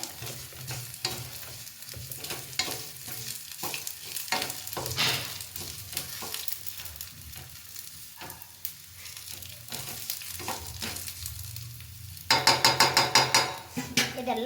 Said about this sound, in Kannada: ಸ್ಟವ್ ಆಫ್ ಮಾಡಿದ್ದೀನಿ ಎಳ್ಳು ಬೇಗ ರೋಸ್ಟ್ ಆಗಿಬಿಡುತ್ತೆ